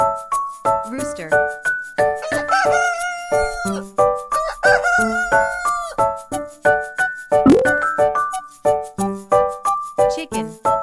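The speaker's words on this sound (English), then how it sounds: "Rooster." A rooster crows twice, its strained, rising calls sounding clearly over a cheerful, steadily pulsing children's music track with jingling percussion.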